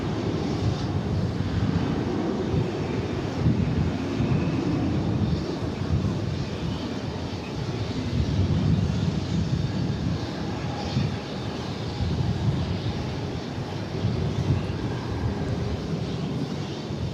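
An American Airlines jet takes off from runway 18 left at DFW airport, its engines giving a loud, steady roar that fills the whole stretch with little change in level.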